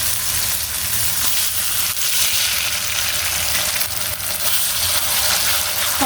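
Freshly ground spice paste frying in a pan over low heat: a loud, continuous dense sizzle and crackle, close and unbroken for several seconds, with no talking.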